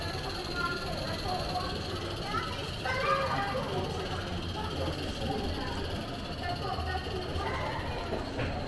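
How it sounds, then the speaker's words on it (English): A freight train rumbles past at a steam museum, a steady low mechanical roar with some rhythmic clanking, while people talk nearby over it. "Here goes the freight train."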